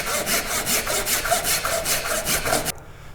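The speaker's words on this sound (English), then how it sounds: "just do a few more cuts in the middle, just to weaken this material here" Hand saw cutting through wood for a dovetail halving joint, a steady series of loud, rhythmic rasping back-and-forth strokes, close up and alone, stopping abruptly near the end.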